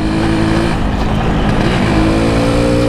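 A Yamaha RX-King two-stroke motorcycle engine roars and pulls hard under acceleration, loud and close, with a steady rising drone across the whole stretch.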